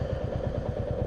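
Royal Enfield Bullet 350 motorcycle cruising through Mississauga, a close, steady low thumping engine beat with rapid regular pulses.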